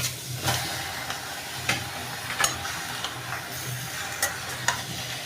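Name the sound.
beef sizzling as it is added to the pot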